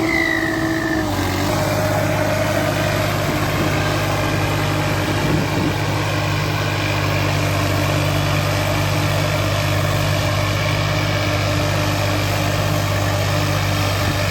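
A turbocharged tractor engine idles close by with a steady, heavy low rumble and mechanical whine, unchanging throughout with no voices.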